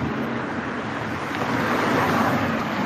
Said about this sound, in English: There's Blackpool Beach.